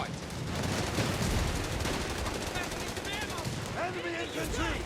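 Dense gunfire and machine-gun bursts with mortar impacts in Company of Heroes 3 rattle on without pause, loud and crowded, while a voice comes in near the end.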